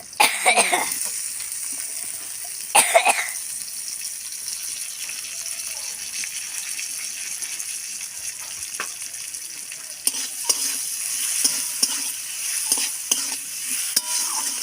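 Spices frying with ginger, garlic, onion and tomato in a pan, a constant bright sizzle with occasional spoon scrapes and clinks, plus a brief cough near the start.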